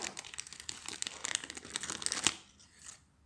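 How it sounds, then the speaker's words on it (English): Damp decoupage paper napkin being slowly peeled away from a candle, giving soft, close crinkling and tearing rustles in a steady run of small bursts that fade into quiet. "now you can just slowly peel away this paper"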